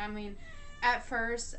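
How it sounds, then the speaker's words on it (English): A house cat meows several times, short rising mewing calls close by, mixed in with a person talking. "So if you hear meowing, I'm sorry."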